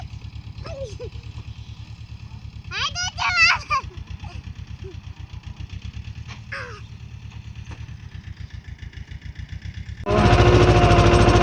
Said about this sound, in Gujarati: ફાઇનલી પાળીઓ નાખવા માટે ટ્રેક્ટર આવી ગયું છે